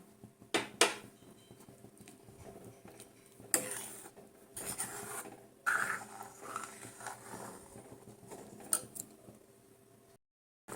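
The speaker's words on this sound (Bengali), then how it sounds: "দেখো বেশ কিছুক্ষণ ধরে আমি এইভাবে নাড়িয়ে চলেছি।" Carrot halwa with saffron milk being stirred in a pan, giving soft intermittent scrapes and clinks of a spoon against the metal over a quiet background, the stirring continuing steadily for several seconds before stopping.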